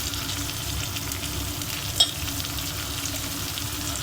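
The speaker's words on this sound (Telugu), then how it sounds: "ఉల్లిగడ్డ కొంచెం ఫ్రై అయిందండి. ఇప్పుడు మనం టమాటోస్ కూడా వేసుకుందాము" Onions and tomatoes fry with turmeric in a pan while poha is being made, a continuous close sizzle with stirring and one brief clink of a utensil midway.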